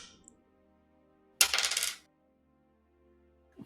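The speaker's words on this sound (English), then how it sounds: "I would like all of you to roll a d4, please." A four-sided d4 die is rolled once during a tabletop role-playing game session, producing a brief clattering rattle on a hard surface that lasts about half a second amid near silence.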